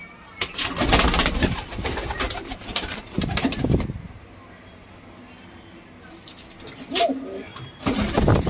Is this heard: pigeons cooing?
yes